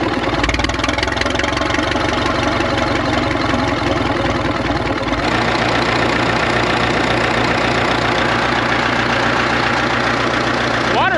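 A rebuilt Caterpillar D4 bulldozer engine idles during break-in, a loud, steady low rumble with a continuous mechanical knock running the whole time, no voices standing out over it.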